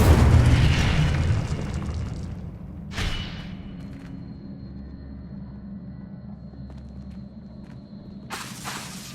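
Incendio fire spell blast in Hogwarts Legacy during a duel, a loud booming burst with a rushing whoosh at the start, a second sharp impact after about three seconds, then quiet ambience before another burst at the end.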